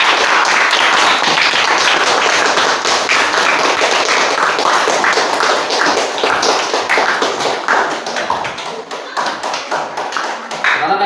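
Classroom applause from a group of students, a dense, steady patter of many hands clapping at close range, carrying on for several seconds before thinning out toward the end.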